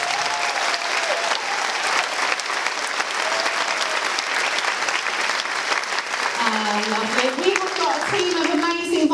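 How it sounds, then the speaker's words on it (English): Audience at a rock choir anniversary show clapping continuously, a full room of steady applause, with a voice starting to speak over it in the last seconds. "Please give them a round of applause."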